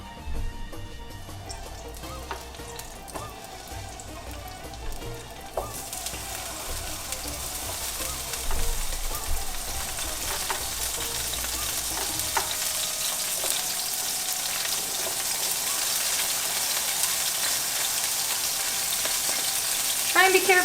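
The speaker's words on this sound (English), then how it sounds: "using the same oil, and just start frying these bad boys" Steady loud sizzling of zucchini frying in hot oil, with occasional pops and crackles, close by and continuous.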